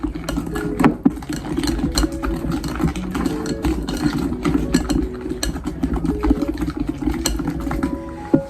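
An electric mixer whirs steadily through donut batter for a first homemade batch, a continuous close mechanical hum with a few small clicks and knocks along the way and no talking.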